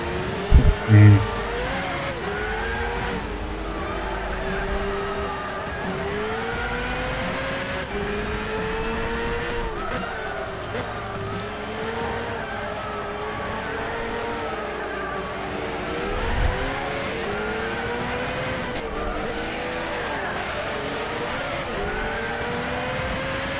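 NASCAR race cars lapping a road course in Gran Turismo 6, engines revving up and down through gear changes with occasional tire squeal, continuous and fairly close, a voice talking over the engine noise.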